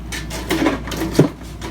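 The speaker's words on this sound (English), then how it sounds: "pull the other panel" A desktop computer's metal side panel is pulled off during a repair, producing a short scrape and a single clunk, close and moderately loud.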